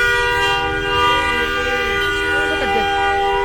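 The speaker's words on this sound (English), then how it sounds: "He keeps honking, and I don't know why." A car horn blares in evening street traffic in Dhaka, Bangladesh: one loud, sustained, steady tone that runs the whole stretch, while a voice talks underneath.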